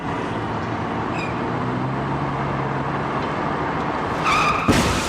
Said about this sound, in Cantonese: 揸車啊！